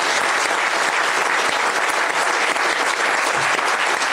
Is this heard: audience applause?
yes